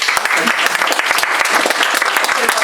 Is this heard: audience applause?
yes